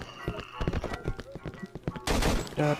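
Gunfire against zombies and monsters in the horror game Cry of Fear: a dense run of sharp shots in quick succession, loud and close, with voices talking over parts of it.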